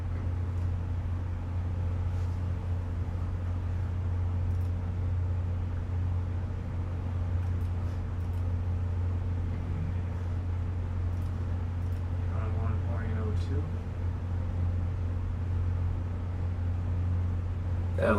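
A 52-inch Classic Fan Model ML ceiling fan runs in reverse, giving a steady low motor hum with a soft, even whoosh that holds unchanged throughout, near and continuous, with faint higher ticks and a brief whir near the end.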